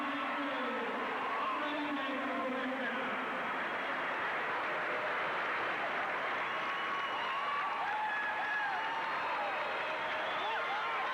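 Roadside spectators at the 1987 Boston Marathon roar and cheer for wheelchair winner Andre Vigier, a continuous wall of crowd noise lasting the whole stretch, with a voice speaking over it.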